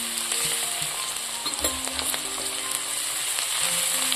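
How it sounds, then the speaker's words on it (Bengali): Garlic paste is fried with browned onions in a pan, cooked with mutton fat for ghugni. A loud, steady sizzle fills the whole stretch, with scattered crackles and a few soft stirring knocks close by. "এবার আমি এর মধ্যে দিয়ে দেব রসুন বাটা"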